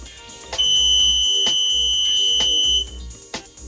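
An industrial 5-digit LED digital counter's threshold buzzer alarm sounds loud and sustained for about two seconds with a steady high-pitched tone, then cuts off.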